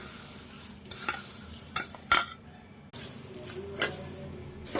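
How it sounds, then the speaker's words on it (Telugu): Fried poha (flattened rice flakes) being tossed and stirred into a cooled tempering in a pan. Close, dry rustling and scraping comes in bursts with short pauses, and no one speaks. "తాలింపు చల్లగా అయింది. ఇందులో ఫస్ట్ వేపుకున్న అటుకులు వేసుకోవాలి."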